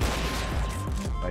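A gunshot in an online first-person shooter match, a loud dense blast of firing that fills the short moment among busy game noise, with no talk over it.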